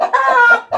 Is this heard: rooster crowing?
yes